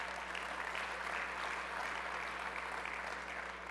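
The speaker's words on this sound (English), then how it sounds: "how about a round of applause for that?" Steady, fairly distant applause from a conference audience at a general session, an even wash of clapping over a low electrical hum, with no voice over it.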